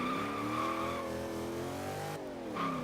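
A performance car in Forza Horizon 3 revs hard and steadily, its engine harmonics climbing, dipping at a gear change and rising again. The sound is loud and continuous, with some tire squeal as the car struggles to turn.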